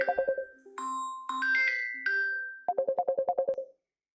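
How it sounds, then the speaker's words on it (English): A mobile phone rings with a bright electronic melody: a quick run of pulsed tones, a few held notes, then another rapid burst that ends abruptly, close and clear with no talking over it. "And my phone just rang."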